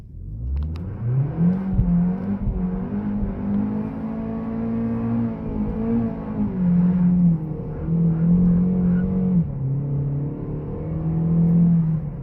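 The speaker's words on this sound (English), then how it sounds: "Officially my longest burnout" A car performs a long burnout at a Dallas meetup, its engine held at high, wavering revs for about twelve seconds with a steady loud roar and tire spin, no talking over it.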